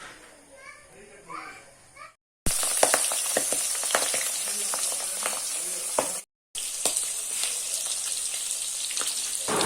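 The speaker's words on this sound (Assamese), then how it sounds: "মাছটো কেৰাহীত দিয়া মাত্ৰ কিমানেই হৈছে, ফুটিছে" Loud, steady sizzling and spattering of fish frying in hot oil in a wok fills most of the clip, after a brief stretch of quieter talk.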